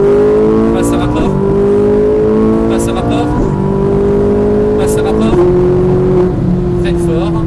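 Ferrari 458 Italia on the Circuit du Luc pulling hard at full throttle, the engine note climbing loudly through several rising sweeps with quick dips at each upshift, heard from inside the car while an instructor talks over it.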